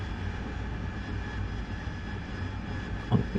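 A Mirage jet aircraft engine in a flight simulator game hums as a steady, moderately loud drone with little variation throughout.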